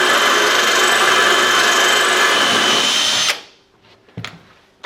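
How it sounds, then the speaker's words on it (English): A cordless drill fitted with a Marcrist multi-material bit grinds into tile with a harsh, gritty whine, steady and close for about three seconds before it stops abruptly, followed by a couple of faint knocks. "Start drilling."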